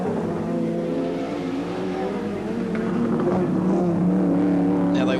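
Touring race cars from the 1988 championship roar past at Sandown, with engines loud and sustained as they run down the straight at high speed.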